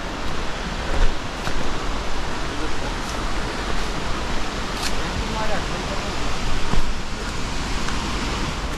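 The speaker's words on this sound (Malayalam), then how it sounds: "അതാണ് നമ്മുടെ വെള്ളച്ചാട്ടം." A waterfall with a good flow in the dry season roars as a steady, full broadband rush, close and continuous, with the level swelling gently now and then.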